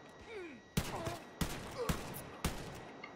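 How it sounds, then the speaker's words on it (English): Four heavy shotgun blasts from Wolfenstein: Youngblood ring out at roughly even intervals, each a sharp loud boom with a short reverberant tail. Quieter game sounds sit between the shots, and a voice talks faintly underneath. "I think this is a shotgun"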